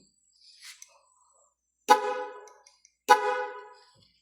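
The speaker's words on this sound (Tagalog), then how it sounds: "Ayan o, busina. PIA Auto Style Horn." Two loud honks from a PIA auto-style car horn, each about a second long, separated by a short pause, with a faint brief noise before them.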